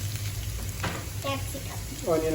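Cut onion and capsicum sizzle steadily in a hot pan while chilli chicken is cooked, a continuous close frying hiss with faint stirring and a brief voice toward the end.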